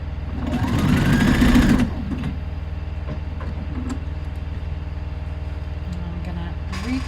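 Sewing machine running a zigzag stitch during a sewing workshop, a loud steady motor whir for about two seconds, then stopping, leaving quiet room hum with small handling sounds.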